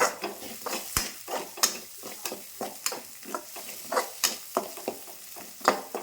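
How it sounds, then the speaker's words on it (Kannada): Spices are stirred into frying paneer masala in a kadai pan, with repeated scraping spoon strokes against the metal over a soft, continuous sizzle. "ಇದೆಲ್ಲ ಹಾಕೊಂಡು ಮಿಕ್ಸ್ ಮಾಡ್ಕೊಳ್ಳೋಣ"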